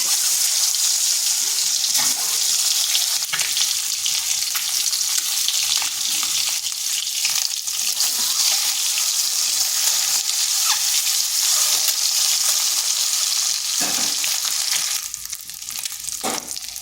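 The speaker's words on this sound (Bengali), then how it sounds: "এরপর এগুলো ভেজে নিচ্ছি।" Turmeric-coated eggs frying in oil give a loud, steady hiss and sizzle that runs unbroken throughout, with occasional crackles and a slight drop near the end.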